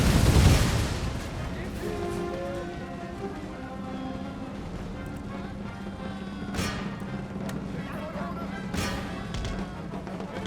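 Musket and artillery fire crackle through a Total War: Empire battle, a dense mix of muffled volleys and distant booms with a heavy thump at the start and a few sharper shots later, under a constant low rumble.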